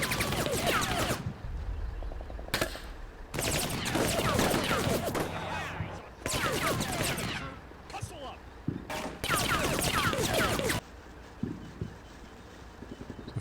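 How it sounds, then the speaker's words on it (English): Machine-gun fire from the city in Combat Mission Shock Force 2 comes in several loud bursts of rapid shots, separated by quieter gaps with some low background noise. "Some MG fire back from the city."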